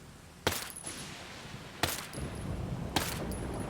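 Three separate single shots from an SN 9mm in Ghost Recon Breakpoint, each a sharp loud crack with a brief metallic ring, spaced over a few seconds against a steady low ambient hum.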